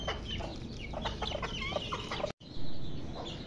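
Several chickens, hens with chicks, cluck and chirp nearby in quick, uneven bursts while feeding on millet, followed after a brief break by a steady rustling background.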